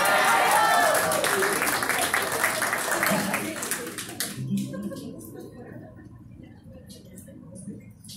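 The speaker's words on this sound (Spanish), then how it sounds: "Un aplauso, por favor." An audience claps in a burst of applause for a few seconds, fading out while a voice speaks over it.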